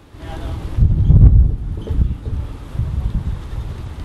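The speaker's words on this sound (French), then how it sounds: "Nous sommes surpris du vent qui se lève d'un coup sans discontinuer jusqu'au soir." Low, rumbling wind buffets the microphone in uneven gusts in Nepal, strongest early on, then continuing in steady surges.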